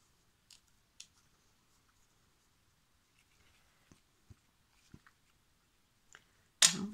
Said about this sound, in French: Là on va le couper un petit peu en forme d'œuf cassé.